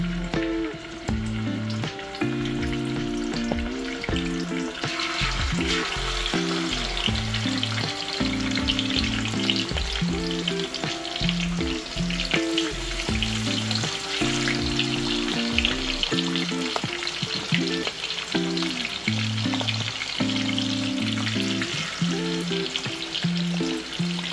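Salmon deep frying in hot oil gives off a steady, continuous sizzle at close range, with rhythmic background music running beneath it the whole time.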